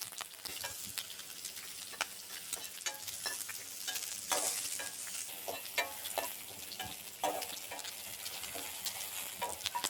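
Onions and green chili frying in a pan for a railway mutton curry, a steady close sizzle with frequent stirring clicks and scrapes running throughout, no talk over it.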